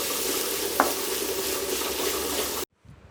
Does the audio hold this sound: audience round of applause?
no